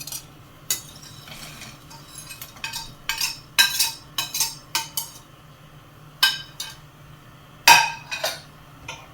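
Fried okra being stirred into a cooked masala in a pan, with a series of sharp spoon clinks and scrapes against the metal at an irregular pace, close and moderately loud, no talking.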